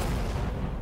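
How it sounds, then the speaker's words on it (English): Mortar fire in the Valor & Victory Stalingrad game, a brief dense burst of booming, rumbling explosion noise, loud and close. "That must be the mortars. Yeah, it is."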